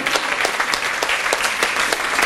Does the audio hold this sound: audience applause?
yes